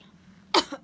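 A single sharp cough close to the microphone, followed by a smaller second burst, in an otherwise quiet room.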